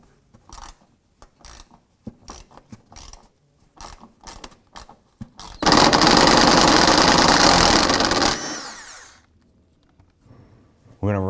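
A ratchet works an 8mm bolt loose in the wheel well of a 1993-1997 Ford Ranger: a series of short clicking bursts, then a few seconds of rapid, loud continuous ratcheting that fades out, up close.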